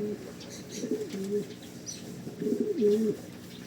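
Pigeons coo in two low, rolling bursts, fairly close, with faint chirps in the background.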